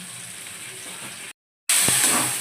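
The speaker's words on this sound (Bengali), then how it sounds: "ভালো করে সমস্ত কিছু একসঙ্গে কিছুক্ষণ টাইম নিয়ে আমি ভেজে নিচ্ছি" Ginger, garlic, onion, green chilli and tomato frying together in a pan, a broad hissing sizzle that cuts out briefly, then returns louder and brighter, with no talking.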